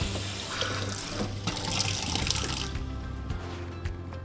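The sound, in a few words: dishwasher filter rinsed under running tap water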